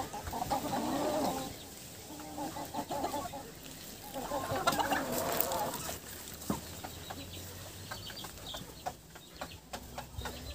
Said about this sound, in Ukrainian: Курочки там через сітку, дивіться, сваряться.